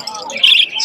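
Caged lutino birds call at the Putia bird market in Narsingdi, giving a short burst of close, bright chirps and squawks that lasts under a second.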